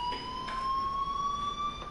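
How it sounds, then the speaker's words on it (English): A school fire alarm in a video game sounds as a steady, high electronic tone held continuously, with faint pulsing beneath it. It is moderately loud, with no voices over it. "Hey, do you hear that fire alarm?"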